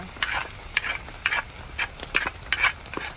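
Onions frying in a pan for a breakfast dish, with soft sizzling and repeated stirring scrapes in short bursts, close and moderately loud, with no speech.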